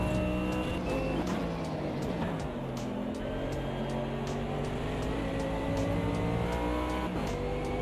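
A race car engine in a racing video game drones steadily on qualifying laps, its pitch rising and falling through gear changes with periodic ticking clicks, loud and continuous without voices.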